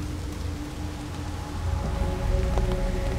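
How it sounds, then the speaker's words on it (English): Persistent rain falling during the Wildside mountain bike race in Tasmania, a dense, even hiss that swells slightly and has no voices. "Either way, the rain didn't let up."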